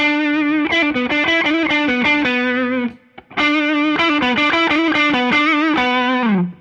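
A 2007 Epiphone ES-335 Dot semi-hollow electric guitar played through overdrive, with thick distorted strummed chords and quick rhythmic chops, loud and close, a short pause midway, then the riff repeats and rings out.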